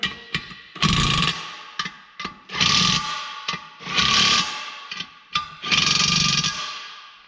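Ratchet snugging down the center bolts on weld two-piece racing wheels, several bursts of rapid clicking separated by short pauses and sharp taps, close and fairly loud with no speech.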